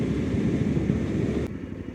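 A Suzuki V-Strom 800 RE motorcycle on a test ride, heard as a steady low engine drone mixed with buffeting wind noise that drops away abruptly near the end.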